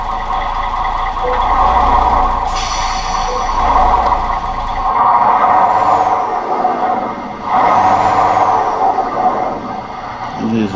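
Mercedes Axor truck hitched to a trailer, its diesel engine rumbling steadily up close while sharp hisses of air brake release burst out twice, loud and nearby, with a brief high whistle-like tone in between.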